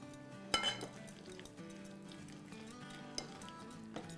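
A whisk stirs ground black pepper and turmeric into a marinade in a bowl, quiet rhythmic scraping and clinks of metal against the bowl with a sharper knock early on, close and faint.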